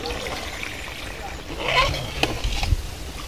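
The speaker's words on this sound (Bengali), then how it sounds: "এখন পরিমাণ মতো পানি দিয়ে দেবো।" Water is poured into a pot of beef being slow-cooked for bhuna. There is a short splash and trickle over low kitchen background noise.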